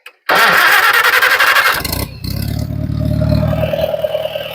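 A Farmall 140 tractor engine cranks with rapid starter chugging, catches with a loud roar, then settles into a steady, close, rumbling idle.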